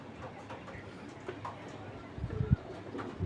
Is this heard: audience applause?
no